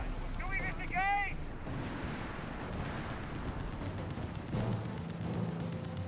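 Battlefield gunfire in the WWII strategy video game Company of Heroes 3: rumbling, distant volleys and booms layered under game radio voices, with a brief tonal unit chirp near the start.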